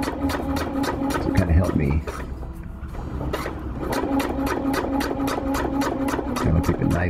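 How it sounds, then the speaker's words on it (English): Sewing machine stitching the ridgeline seam of a lightweight backpacking tarp, with a rapid rhythmic mechanical chatter that pauses briefly and then resumes at a steady pace while someone talks over it. "now we've got the whole length of it sewn together"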